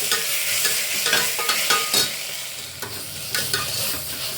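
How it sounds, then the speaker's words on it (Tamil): Ginger garlic paste being sautéed in a pan for baby corn gravy, a loud steady sizzle broken by repeated scraping strokes of a stirring spoon, close and with no voices. "இஞ்சி பூண்டு பேஸ்ட் போட்டதுக்கப்புறம் நல்லா வதக்கி விட்டுக்குங்க."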